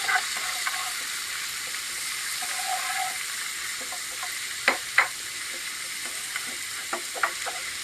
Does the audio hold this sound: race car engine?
no